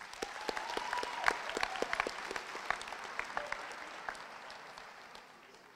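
Applause for graduates at a high school graduation ceremony, scattered sharp claps from a crowd, fairly distant and soft, tapering off toward the end.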